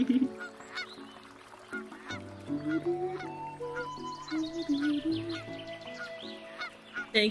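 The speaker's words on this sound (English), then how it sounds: "Thank you, Ethereal, for the goose noises." Geese honk over and over in loud, nasal calls, some rising and wavering, with no voices present.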